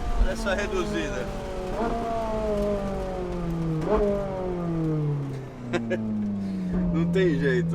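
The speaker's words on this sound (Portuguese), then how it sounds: "458 Itália, V8 aspirada, Ferrari" Ferrari 458 Italia with a naturally aspirated V8 revving through repeated climbs and sharp shifts, the engine note rising and dropping in pitch inside the cabin while someone talks over it.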